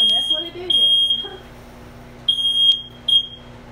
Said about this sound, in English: hopefully when I take it off, my smoke detector don't go off, because, yep, and that's what it did